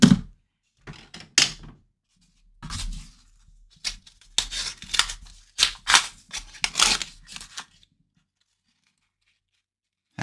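Paper coin wrapper on a roll of half dollars being torn open, a run of crisp tearing and crinkling bursts up close, followed by coins clinking and sliding, with no talking.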